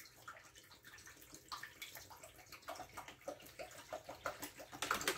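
Tap water poured into a household appliance, a steady soft splashing and gurgling flow that grows slightly fuller toward the end, close but quiet, no talk.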